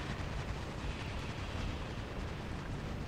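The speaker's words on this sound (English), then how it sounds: "Bomb." A bomb goes off in the robot-combat game War Robots, a loud, dense rumbling blast that fills the whole stretch with sustained roaring noise and no clear pauses.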